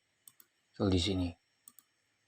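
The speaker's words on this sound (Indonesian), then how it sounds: "Kita ketik mkdir" A few sharp keyboard clicks as a command is typed on a computer, two before and two after a short spoken phrase, close and crisp.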